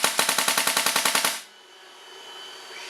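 An Azodin Blitz paintball marker fires with its eyes turned off, giving a rapid string of about twelve sharp, loud, evenly spaced shots over one and a half seconds, then a quiet hiss.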